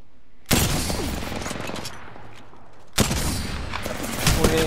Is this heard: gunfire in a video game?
yes